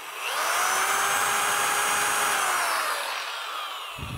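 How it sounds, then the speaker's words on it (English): A power drill boring a small guide hole in the radiator core support of a 1965 Ford Mustang, one steady high whine sustained for about three seconds, close and loud, then winding down. "you want to put a guide point in there so that your drill bit doesn't walk around on you"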